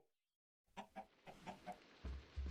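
Chicken clucks in the Minecraft video game, a series of short clucking calls after a brief silence, followed by louder low thumps near the end.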